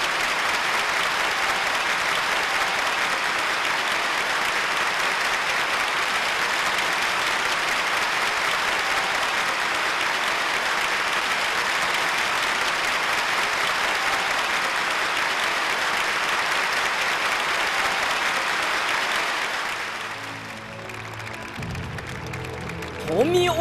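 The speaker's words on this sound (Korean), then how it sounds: "전체 관람자들은 우렁찬 박수로 열광적으로 환호했습니다" A theatre audience gives loud, enthusiastic applause that roars on steadily for about twenty seconds before dropping away into quieter hall sounds.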